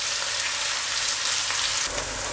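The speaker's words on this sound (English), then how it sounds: "we're going to fry the onions until they're nice and golden brown in colour" Onions sizzle and fry steadily in a pot on medium heat for a one-pot lamb bhuna, a dense crackling hiss that continues loud and unbroken without any talking.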